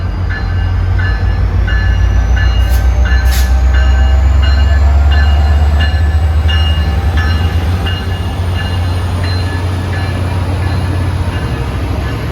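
A Caltrain commuter train, number 408 hauled by an MP36 locomotive, passes trackside with a loud steady rumble and repeated wheel clicks, plus a brief high squeal and a faint tonal whine.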